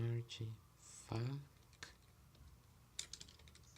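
Computer keyboard typing while entering a Vaadin archetype artifact in a Java project setup: scattered soft key clicks at moderate distance, mostly under a man's speech.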